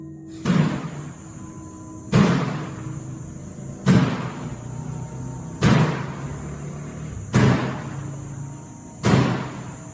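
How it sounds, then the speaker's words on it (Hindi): A door bangs open and shut on its own, six heavy slams at a steady interval of under two seconds, each a loud thud with a rattling tail over a constant faint hum. "ये दरवाजा अपने आप ही खुल रहा है और बंद हो रहा है, और वो भी इतनी जोर से कि मानो कोई जानबूझकर ऐसा कर रहा हो"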